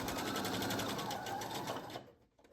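Sewing machine stitches two layers of a puffed-sleeve hem together in a fast, loud rhythmic whir close by, running steadily for about two seconds before stopping.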